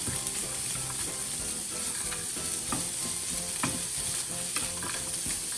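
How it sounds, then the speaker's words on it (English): Vegan ground beef sautés in a pan with a steady close sizzle, and scraping stir strokes are heard at intervals throughout. "we're gonna go ahead and with our vegan ground beef now. We'll just let this saute for a few minutes"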